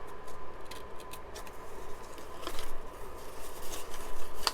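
Scissors snip through a folded old book page, a few crisp close cuts and soft paper rustles over faint background noise.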